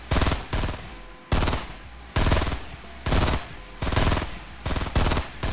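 Gunfire in a first-person shooter video game rings out as a series of loud, rapid automatic bursts, about seven separate strings of shots separated by short pauses, close and dominant with no talking.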